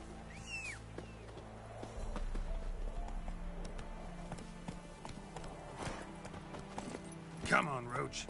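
Roach, the horse from the video game The Witcher, galloping with steady clip-clop hoofbeats over a low rumble, mixed with voices, a brief whinny-like cry and other game sounds.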